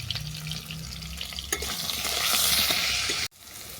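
Pieces of rohu fish fry in a pan with spices, giving a close, steady sizzle with stirring scrapes and a sharp clatter, then a sudden brief drop before the sizzling resumes.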